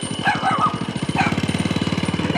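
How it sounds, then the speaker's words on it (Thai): A very small dog barks in a fast, shrill run of about two dozen yips, close and fairly loud, with faint voices at the start. "ตัวเล็กนิดเดียวนะคะ เห่าช้างเสียงแก้วเลยนะคะ"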